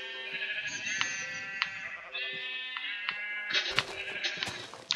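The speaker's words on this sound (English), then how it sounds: "Hello, sheep. Sorry. I need your wool." Sheep bleating in the video game Minecraft on Xbox One, several wavering bleats in a row at close range, with no talk over them.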